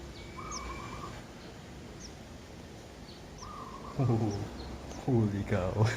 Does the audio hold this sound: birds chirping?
yes